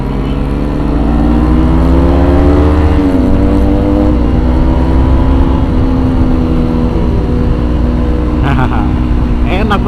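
A loud motorcycle engine, a rider's machine on a group ride, accelerates close by with a rising, revving drone and wind rush that runs continuously throughout.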